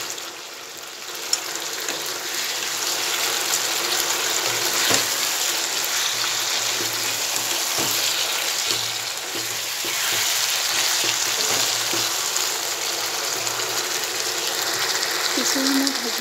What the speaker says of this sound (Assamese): কেঁচা জলকীয়া এনেদৰে ভাজি দিছোঁ